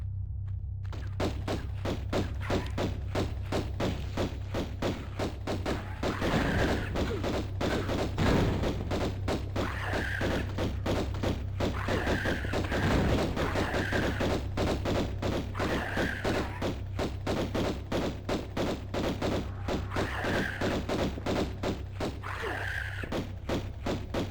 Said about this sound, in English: why am I using the shit pistols instead of the magnums?